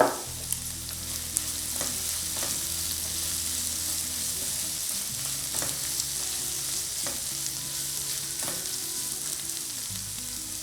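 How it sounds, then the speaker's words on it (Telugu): Ivy gourd pieces fry with turmeric in a pan, making a continuous soft sizzle with occasional stirring scrapes and light clinks throughout, close and steady with no talking. "పసుపు వేసి ఒకసారి ఫ్రై చేద్దాం."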